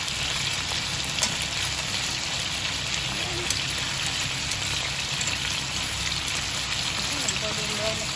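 Chicken pieces frying in a non-stick kawali until golden brown, giving a continuous, even sizzle like light rain that stays steady and close throughout.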